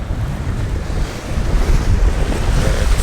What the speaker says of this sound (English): Wave is crazy, guys. The wind's so strong.